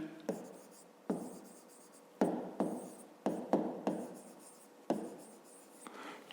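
Numbers written by hand with a pen on paper during a fifth-grade math exercise: a series of short, scratchy strokes in bursts, close and fairly quiet, with pauses between digits.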